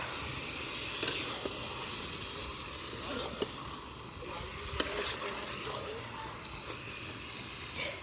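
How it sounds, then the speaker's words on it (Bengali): Marinated meat being sautéed in hot oil in a pan, a continuous close sizzle with repeated scraping stir strokes and occasional sharp clicks throughout. "এবার এর মধ্যে ম্যারিনেট করা মাংসটা দিয়ে দেবো দিয়ে কষাতে থাকবো"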